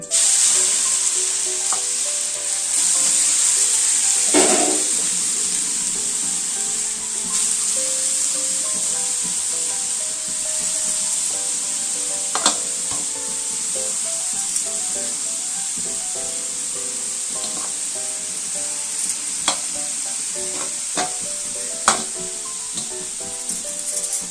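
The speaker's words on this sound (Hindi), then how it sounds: "अब मैं यहाँ गाजर ला ये तेल मा कलो दूँ।" Carrots sizzle steadily in hot oil in a village kitchen for gajar halwa, a continuous close frying hiss with occasional sharper crackles and stirring scrapes.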